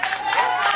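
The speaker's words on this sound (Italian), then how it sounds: "a me un applauso così grande mica me l'avete fatto ancora" Festival audience applauding for a contestant, a steady wash of clapping and crowd noise sustained throughout without breaks.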